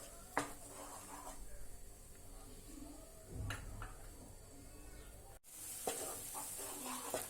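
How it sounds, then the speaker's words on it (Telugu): Chopped onions and green chilies fry in a pan for a chole curry, giving a faint, steady sizzle broken by soft stirring scrapes and light clinks of a spoon against the pan. "ఇది కొంచెం ఫ్రై అవనిద్దాము."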